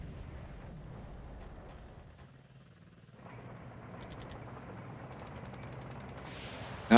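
Faint artillery fire and distant booms from the Cold War strategy game Flashpoint Campaigns, with rapid pulsed bursts in the second half and a sharper hit at the very end.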